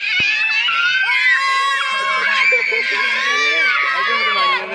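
Children on a fast fairground swing ride scream in a dense, continuous chorus of high, wavering shrieks, loud and overlapping throughout, with crowd noise beneath.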